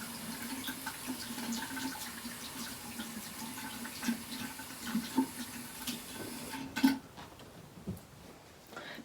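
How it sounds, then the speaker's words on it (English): Washing hands at a sink: running tap water splashing steadily at moderate volume, with small clinks and shifts of the flow as the hands move beneath it. "Now wash the hand and let that dry."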